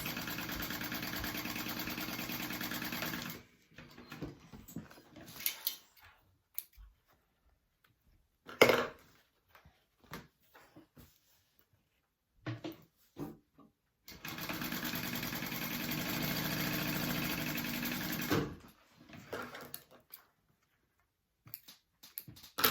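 A sewing machine runs a 3/8 inch seam in two long, steady whirring passes separated by quiet stretches with clicks and fabric handling, the motor close and even in tone.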